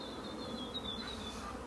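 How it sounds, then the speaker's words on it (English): A honeybee buzzing close by as it flies back into its hive, a continuous, fairly loud droning hum with wavering pitch, no voices. "she'll fly back into her hive"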